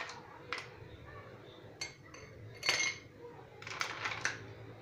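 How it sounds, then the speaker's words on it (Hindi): Ice cubes dropped into a serving glass for fresh watermelon juice, a few sharp clinks and clatters spread over several seconds, close and fairly quiet. "ग्लास में डालेंगे आइस क्यूब।"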